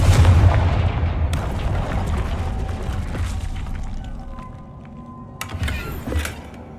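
A Confringo blast spell in a Harry Potter video game lands as a deep, rumbling explosion that decays over several seconds, followed by a few sharper crackling impacts near the end.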